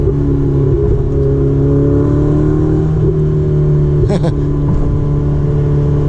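A Ferrari 488 Spider's engine drones loudly and steadily, building slightly as it accelerates, with a brief sharper burst near the end; faint talk sits under the engine.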